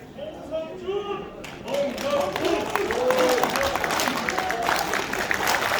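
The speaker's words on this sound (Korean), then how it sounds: "뜻깊은 축사를 해주신 최승재 대표님께 다시 한번 큰 박수 부탁드립니다" Applause at a People Power Party members' rally swells up after a moment of speech, becoming a dense, sustained round of clapping from a large indoor crowd.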